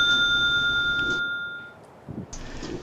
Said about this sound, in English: a magnificent vintage-style bell, the penetration tone of which will clear the way for about 50 metres ahead